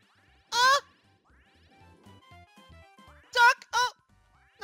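Cartoonish duck quacks from a Mario Party 7 minigame, one loud quack early and then two quick quacks close together later, over soft music and faint chatter.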